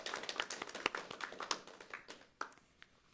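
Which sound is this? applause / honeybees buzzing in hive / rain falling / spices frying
applause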